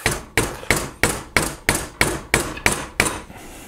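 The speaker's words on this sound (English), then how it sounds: "And I'm just going to beat on it with my rubber mallet." Rubber mallet repeatedly striking the hilt of a Dynasty Forge bastard sword to tighten a loose guard, nine sharp, evenly spaced knocks close up with no talk.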